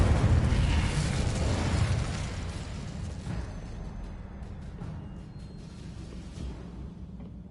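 Incendio fire-spell blasts from Hogwarts Legacy, a loud booming burst that rolls into a long roaring rumble and then slowly fades away, with no voices over it.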